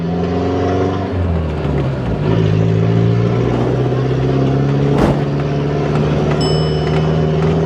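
A police truck accelerates hard and speeds past on a road beside the Mekong River near Khemarat in Isaan, its engine rising from a low drone into a strong, close roar, with a sharp swell midway and a boat motor humming underneath.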